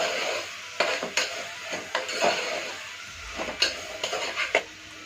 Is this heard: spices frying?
yes